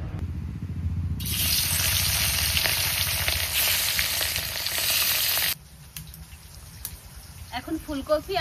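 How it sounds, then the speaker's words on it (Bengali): Whole cumin seeds frying in a hot wok ahead of frying rohu fish, a loud, steady close sizzle for several seconds that cuts off abruptly, leaving faint kitchen clatter and low background noise. "মাছটা ভাজার আগে আমি একটু গোটা জিরে ভেজে তুলে নেব।"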